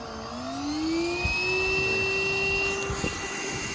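Everything Bee Vac Mark 2.5 vacuum sucking up a spring bee swarm, a steady, close whine with a rising pitch that levels off and holds for several seconds, with faint rustling beneath.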